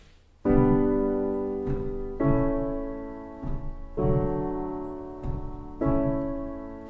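Five sustained piano chords are struck one after another at an even pace, each ringing out and fading before the next.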